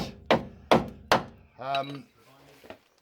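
Three loud, evenly spaced hammer blows ring on the metal chassis of a 1980 Land Rover Series 3 109 close by, then someone speaks briefly afterward.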